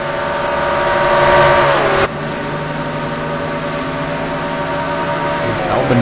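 A McLaren race car roars at an auto race, its loud droning engine note shifting pitch before the sound drops abruptly about two seconds in and settles into a steady, slightly quieter hum.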